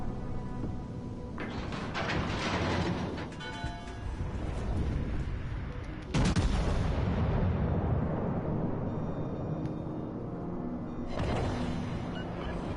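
Naval guns firing armor-piercing shells in World of Warships Legends, with heavy booming blasts that land in separate bursts, one especially loud report midway, followed by rumbling low decay and no speech.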